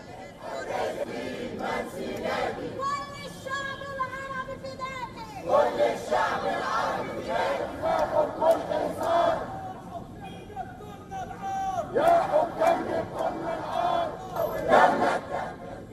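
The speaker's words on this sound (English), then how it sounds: "Crowds of Egyptians gathered in Cairo to protest against the displacement of Palestinians outside of Gaza, waving banners and chanting slogans." A crowd of Egyptian protesters in Cairo chants slogans in loud, rhythmic call-and-response bursts, many voices shouting together in waves over a steady background murmur.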